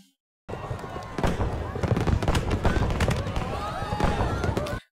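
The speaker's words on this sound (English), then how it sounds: "Fireworks, that is." Fireworks burst in a festival scene of the anime film A Silent Voice, with a series of sharp cracks and booms that start abruptly, then crackle and pop densely and loudly over a sustained rumble.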